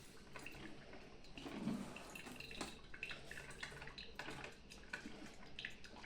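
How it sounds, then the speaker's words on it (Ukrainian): Water gurgles and bubbles quietly with soft drips and splashes in a Mandine MCM125T-16 drip coffee maker, a faint continuous trickle with no voices. "Хіба що це як вода побіжить. Це саме голосніше, що тут є."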